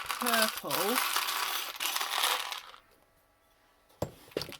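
Buttons being tipped and sorted from haberdashery jars, a dense clattering rattle of small pieces that runs for a few seconds and stops, followed by a couple of sharp clinks, with a voice briefly over the start.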